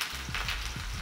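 A large, finely chopped onion hitting hot oil in a pan gives a brief, dense hiss and crackle, close and fairly loud, lasting only a moment.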